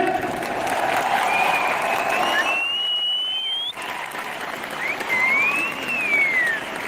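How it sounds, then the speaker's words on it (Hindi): Applause from an audience at an RCM anniversary gathering holds as a steady wash of clapping hands. It is briefly interrupted by a speaking voice and a high tonal whine. "और आप तालियां बजाएंगे सर"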